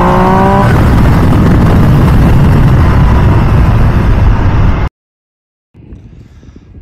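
A 2023 MV Agusta Dragster 800RR engine revs hard and loud close by as it shifts gears with the quick shifter, then cuts to silence before a faint low idle returns.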